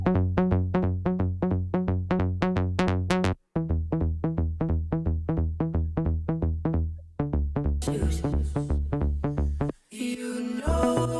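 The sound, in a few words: synth lead melody from an Ableton remix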